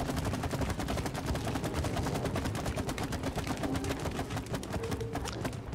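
Rapid bursts of gunfire from the co-op video game It Takes Two, dense repeated shots firing in quick succession over game sounds, no voices.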